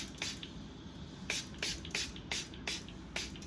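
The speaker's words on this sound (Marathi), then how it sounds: "थोडंसं आपण पाणी मारून घेऊया" A hand spray bottle gives about ten short, crisp spritzes of water onto hair before a haircut, close and fairly quiet, in an uneven rhythm with no talking.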